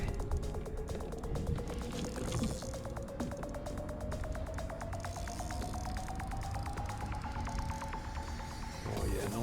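A fishing reel's drag ticks in a rapid, steady stream of clicks while a flathead pulls line, with a rising whine under the ratcheting, close and faint, over light outdoor background noise.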